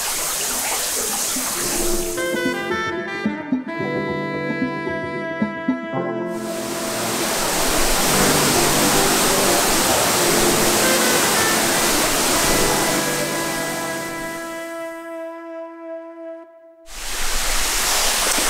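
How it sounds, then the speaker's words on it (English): Several waterfalls pour inside a cave in Ubud, Bali, giving a dense, steady rush of water. Sustained tones and chords ring over it and stop abruptly in places, and the water noise briefly drops out near the end before returning. "There's multiple waterfalls here in this cave."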